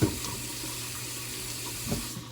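Tap water runs steadily into a kitchen sink while sweet potatoes are rinsed under it, a close, continuous splashing stream with a brief clatter near the start.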